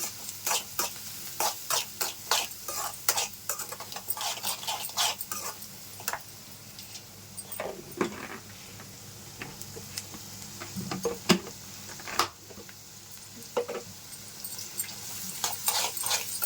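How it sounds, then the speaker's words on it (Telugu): Onions with salt, chili powder, pepper and garam masala frying in a pan for paneer 65, with steady soft sizzling broken by repeated clicks and scrapes of stirring, close up and with no talk. "ఒక రెండు నిమిషాలు వేయించుకోవాలండి ఉల్లిపాయలు ఇలా వేగితే సరిపోద్ది"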